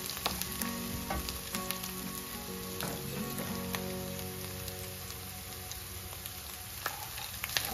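Ginger and garlic sizzle in hot oil for a chicken curry, a soft continuous frying crackle with scattered pops and light stirring clicks, heard up close and quiet.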